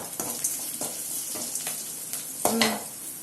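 Tomatoes sautéing in a pan for vendakkai poriyal: soft, steady sizzling with a few stirring scrapes of the spoon and one louder clatter near the end, close by with no talk.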